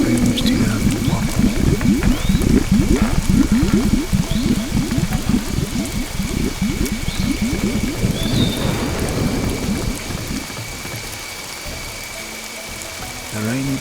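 Steady heavy rain and low thunder rumbles in the rainy basin of Dinotopia: The Sunstone Odyssey, an Xbox video game, loud and continuous at first and easing slightly toward the end, with a voice talking over it.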